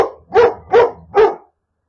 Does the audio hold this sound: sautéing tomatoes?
no